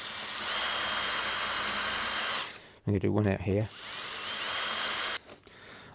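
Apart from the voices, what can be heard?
hinge drill boring hinge holes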